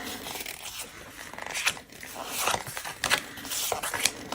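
Tarot cards shuffled by hand close to the mic, soft papery riffles and slides coming in short uneven bursts, fairly quiet.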